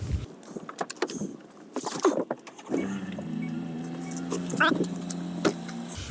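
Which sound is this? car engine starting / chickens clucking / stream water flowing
car engine starting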